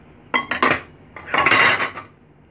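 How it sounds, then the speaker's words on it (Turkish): Metal lid set onto a cooking pot of braised meat with hot water added, two clanking bursts of metal on metal close by, a quick double clink then a longer rattling settle, with no talk. "hemen kapatıyorum ağzını"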